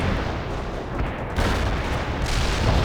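Heavy artillery barrage in the World in Conflict video game, a dense continuous rumble of overlapping booms and blasts that swells louder midway and holds steady without voices.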